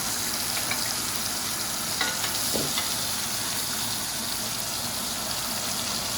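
Butter sizzles loudly and continuously as it is spooned over filet mignon searing in a cast iron skillet, a dense close frying hiss with faint spoon scrapes.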